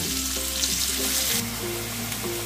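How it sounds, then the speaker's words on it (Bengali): Potatoes fry in hot oil ahead of a prawn curry, a steady close sizzle with a low background hum and no speech. "আলুগুলোকে একটু লাল লাল করে আমি ভেজে নেব।"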